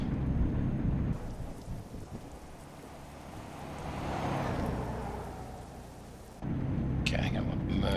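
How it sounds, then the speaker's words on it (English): Thunderstorm with heavy rain in a truck-driving game, a dense rumbling wash of rain that swells into a long roll of thunder, with a louder burst of rain noise near the end. "This storm is, I thought it was getting better, but it's not"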